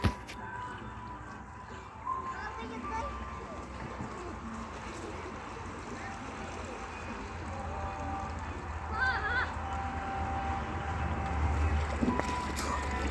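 Swan-shaped pedal boat gliding on water, giving a steady low wash and wind rumble throughout, with faint splashes and distant background voices.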